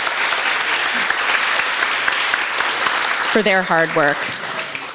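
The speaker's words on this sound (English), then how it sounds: "So let's just give them a round of applause" Sustained applause fills a morning arts event, steady crowd clapping throughout, with a voice speaking briefly over it near the end.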